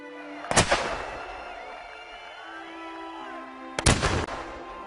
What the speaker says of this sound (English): When Union soldiers fired cannons to celebrate the surrender, Grant stopped them